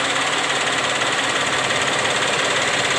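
A Suzuki Karimun Wagon R three-cylinder engine idles close by, vibrating abnormally hard with a steady, uneven knocking rumble throughout.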